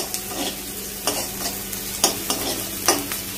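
Potato and onion filling for a veg cheese frankie frying in a pan, a steady sizzle broken by several sharp spatula scrapes and stirs at irregular intervals, close and fairly loud with no talking.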